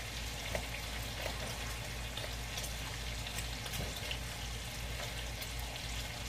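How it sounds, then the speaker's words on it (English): Kielbasa browning in a pot with bacon and onion, a steady close, fairly quiet crackling sizzle that continues evenly throughout with a low hum beneath and no talk. "In the pot, I'm just browning the kielbasa."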